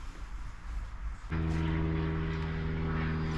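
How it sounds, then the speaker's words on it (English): Propeller airplane passing overhead, a steady droning engine hum that cuts in suddenly and then holds loud and even against outdoor background noise. "there's a plane going over, so if it's a bit noisy, apologies"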